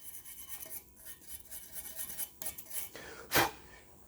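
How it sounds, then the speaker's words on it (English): A wire brush scrubs a steel rivet on a Ford Focus XR5/ST225 front lower control arm, a quiet stuttering series of scratchy strokes ending in one louder sharp scrape. "I'll just clean it with a wire brush so you can see it a bit better maybe."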